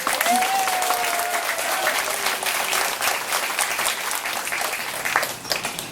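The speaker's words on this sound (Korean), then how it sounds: "큰 박수를 보냅니다" Sustained audience applause at a library-related anniversary event, dense and steady for the whole stretch with a brief tonal whine early on.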